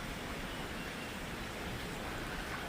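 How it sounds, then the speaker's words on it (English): Steady, soft hiss of rain falling, even and continuous with no breaks, faint and distant-sounding. "it's raining a little more now"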